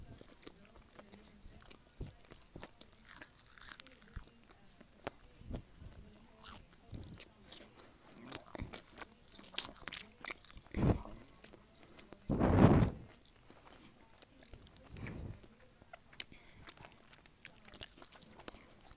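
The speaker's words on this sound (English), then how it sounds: "So I'm chewing with my mouth open." Chick-fil-A chicken nuggets are chewed with the mouth open, close-up with wet crunching bites and smacking chews over a long stretch, one loud bite standing out.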